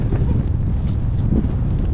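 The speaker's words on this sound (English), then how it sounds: "it's super windy" Strong wind buffets the microphone in a constant, loud low roar with no letup.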